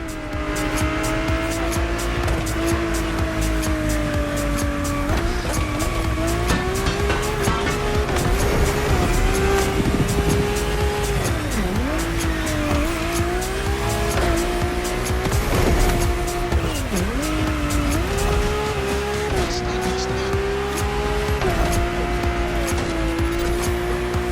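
A powerful drift car in the racing video game The Crew Motorfest roars continuously, engine pitch rising and dipping with gear changes while tires squeal and skid throughout, loud and close.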